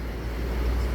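A legendary LS intercity bus from Sumatra in its old green-blue livery, 1526 engine, fully loaded with passengers and cargo, rolling past on the Sumatra–Java route as a loud, close, steady low rumble.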